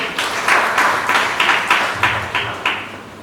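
Guests at a church wedding reception clap in a steady series of about eight loud, evenly spaced claps or clap bursts, close and clear with little background talk.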